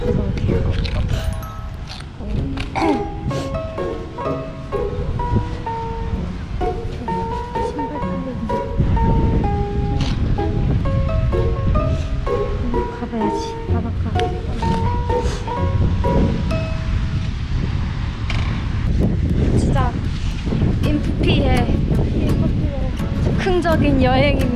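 Ocean waves break at a beach known for surfing, a rolling wash of surf running underneath people talking throughout, with wind buffeting the microphone.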